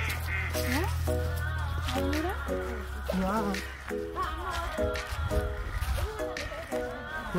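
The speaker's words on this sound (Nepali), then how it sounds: "सबै यहाँनिर हाँसै मात्रै छ" Ducks at a duck pond in Richmond, Tasmania give repeated honking quacks in short bursts over a steady low rumble, fairly close and continuous.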